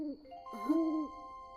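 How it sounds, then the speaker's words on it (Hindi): An owl hoots in a cartoon, one drawn-out tonal call that rises and falls over about a second, clear and close above a faint, steady ringing background, with no talking. "ये एक उल्लू की आवाज है।"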